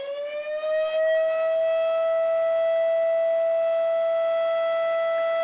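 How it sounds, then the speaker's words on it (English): Outdoor civil defense warning siren sounding during a test, a single loud sustained tone that rises briefly at the start and then holds steady with strong harmonics, heard alone without talk. "these sirens are intended for outdoor warnings only"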